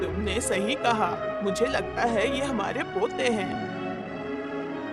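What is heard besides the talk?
None of the usual background noises is heard.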